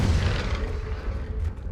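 The Confringo fire spell is cast in the video game Hogwarts Legacy, giving a deep, booming blast with a rumbling low-end roar that lingers briefly, heard alone and close.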